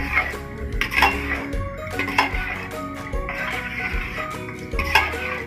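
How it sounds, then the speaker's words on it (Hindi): Mashed chana dal being stirred into a pan for Mumbai-style wedding dal gosht, with repeated clinks and scrapes of a spoon against the metal pan in an uneven rhythm, close and moderately loud, no talking. "ये जो हमने अपने चने दाल को जो मैश करके रखा था वो इसमें ऐड करेंगे। और इसे अच्छी तरीके से मिक्स करेंगे।"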